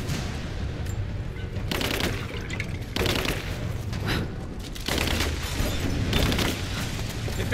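Grenade explosion and rapid gunfire in Rise of the Tomb Raider, with loud repeated bursts and booms hitting every second or so across a noisy firefight.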